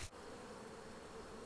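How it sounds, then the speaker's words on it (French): Honeybees from strong hives at an autumn apiary in the Hautes-Laurentides, Quebec, make a dense, steady buzz of many insects close by, continuous and unbroken after a brief thump at the start. "Les ruches sont vraiment fortes, OK? Il y a quand même pas mal d'abeilles"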